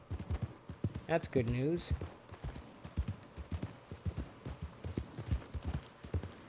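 Horse hooves clip-clopping in a steady walking rhythm in Red Dead Redemption 2, close and continuous across the scene, with someone speaking briefly over them.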